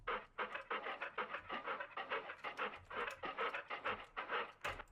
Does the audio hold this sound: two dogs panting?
yes